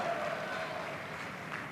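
A rally crowd applauds steadily throughout, a dense, even wash of clapping from a large audience with no single voice standing out.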